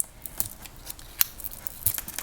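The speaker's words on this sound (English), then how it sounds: "I shall use my scissors." Crisp snips of scissors cutting through packaging, several quick cuts spaced irregularly, close up with no talking.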